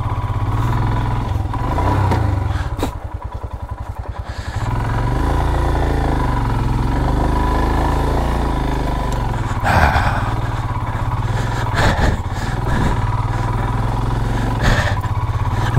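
A luggage-laden motorcycle runs on a rough Sikkim mountain road in winter, its engine droning loud and continuous with a brief dip in revs and occasional clunks and bumps over the terrain.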